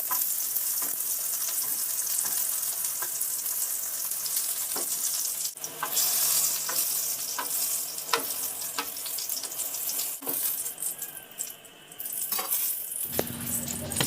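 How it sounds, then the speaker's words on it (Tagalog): Eggplant slices fry in oil in a pan, a continuous bright sizzle with occasional clicks and scrapes of a utensil, briefly quieting before resuming. "Prituhin ko lang yan hanggang sa maluto"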